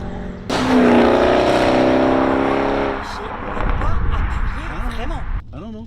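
A tuned 750 hp Audi RS7 engine gives a loud, close rev that holds for a couple of seconds and then drops to a low rumble, with excited voices talking over the idle.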